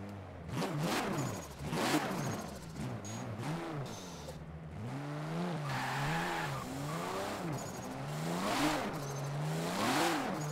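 In Forza Horizon 4, the FD drift car's engine revs up and down repeatedly on a rainy British road, its pitch rising and falling in rhythmic swells. Occasional tire noise adds to the loud, continuous sound.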